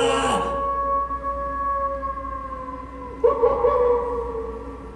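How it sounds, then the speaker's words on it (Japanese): A costumed werewolf performer's howl at a Universal Studios Japan monster show, a long sustained wavering tone held for several seconds, fairly loud, with a second shorter rise near the end under crowd ambience. "狼男、こいつは一晩中月に向かって吠えるのさ。"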